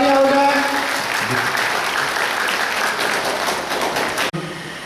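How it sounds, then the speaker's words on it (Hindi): Conference audience at a national integrity gathering on saving the girl child bursts into loud, sustained applause over a brief voice at the start, the dense clapping running steadily before cutting off abruptly near the end. "जोरदार तालियां हो जाए।"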